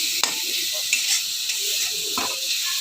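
Fish curry masala with a splash of water is stirred in a hot pan, giving a steady loud sizzle and hiss broken by a few scraping strokes of the spoon.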